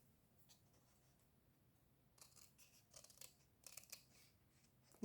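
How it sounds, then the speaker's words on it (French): Scissors snip paper at an angle, a few soft crisp cuts that grow more distinct toward the end, close and quiet with no talking. "on va la couper en biseau, comme ça"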